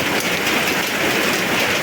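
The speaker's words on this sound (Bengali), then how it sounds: "টাঙ্গাইল গোপালপুরে প্রচুর বৃষ্টি হচ্ছে।" Heavy rain in Gopalpur, Tangail, pours down in a dense, steady hiss, drumming continuously on a surface without any pause.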